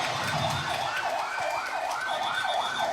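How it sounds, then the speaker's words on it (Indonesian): An ambulance from HVA Hospital arrives at an accident scene with its siren wailing in a fast, repeating up-and-down yelp, loud and close, with traffic rumble underneath. "Kita saksikan ambulan dari Rumah Sakit HVA datang ke lokasi."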